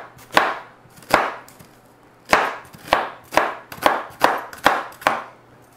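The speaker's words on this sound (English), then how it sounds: "now what we'll do is we'll chop this purple onion" A purple onion being chopped on a cutting board, about nine sharp knife strikes in uneven bursts, close and crisp with no talking.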